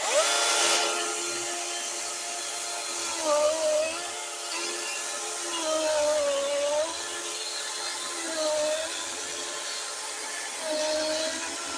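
DeWALT 60V 20-inch cordless chainsaw cutting wood: a continuous, close, loud whining motor drone that rises and dips in pitch several times as the chain bites and eases through the wood, with no talking.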